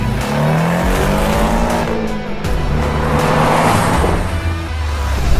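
Porsche sports car accelerating hard with the pedal down, a loud, close engine roar with rising and falling revs and tire noise throughout.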